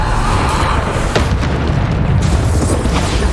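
A Bombarda spell explosion in Hogwarts Legacy: a loud, dense booming blast with crackling debris amid continuous busy battle noise, several impacts blending together.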